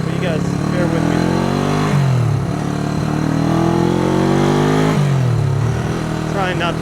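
A Honda CB360 motorcycle with a suspected one-cylinder running fault, engine droning steadily while ridden, with two clear rev swells and drops as it shifts, close and loud, a voice briefly over it.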